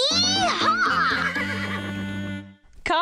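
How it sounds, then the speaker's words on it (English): Cartoon horse neighing in a field, a loud drawn-out whinny with wavering pitch that fades near the end before another short squeal begins, close and clear. "Perched safely on the horse, Caillou felt like a cowboy as Uncle Felix led him and Harry around the field."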